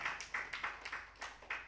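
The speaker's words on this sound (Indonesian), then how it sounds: "Berikan tepuk tangan kita Yesus." A church congregation claps during a Sunday worship sermon in Banjarmasin, with a handful of sharp, uneven claps in quick succession and no talk over them.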